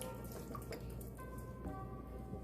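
Milk poured from a cup into a pan for a white sauce, a soft steady liquid trickle and splash lasting a couple of seconds, close and fairly quiet, with no talking.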